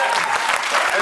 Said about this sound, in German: Großer Applaus für Willi nochmal